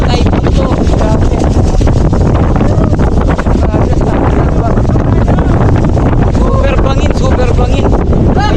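Strong typhoon wind on Mount Giting-Giting, loud gusty buffeting and roaring against the microphone throughout, with people's voices mixed in under the noise.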